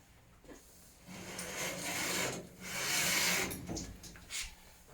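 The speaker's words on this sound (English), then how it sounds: "you are going to dry the entire surface of the tub" A dry washcloth rubbed across a tub's surface, giving soft, uneven swishing strokes that rise and fall in several passes, faint and close with no talking.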